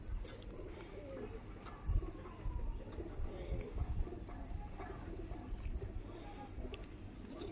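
Kasuri Kalsira pigeons coo softly at a home loft, with low, murmuring calls repeating over a steady hum of background noise and no clear talk.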